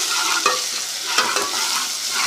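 Browned onion sizzles in hot oil as garlic-ginger paste is stirred in, a steady close frying hiss with scraping stirring strokes.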